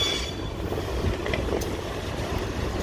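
A freight train with locomotives, including new AC44i units, rolls past at Barreiro on the MRS line, a loud, continuous rumble with rail noise, faint squeals and clanks and no talk.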